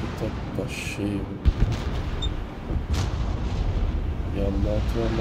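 Booming naval artillery shots in World of Warships thud repeatedly beneath a steady rumble, with bursts of radio-style chatter and distant blasts mixed in.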